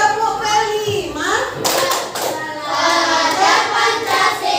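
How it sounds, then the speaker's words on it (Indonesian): Elementary schoolchildren in a classroom chant together and clap in a patterned rhythm, with a few sharp clustered hand claps punctuating the group's sing-song voices. "sebelumnya coba tepuk kelima"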